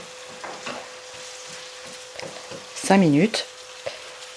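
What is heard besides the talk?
carrots sizzling in pan with cider vinegar evaporating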